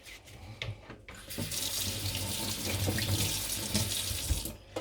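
Water pours steadily from a kitchen tap to wet durum wheat semolina, a close, constant splashing rush, with a few light knocks at the start.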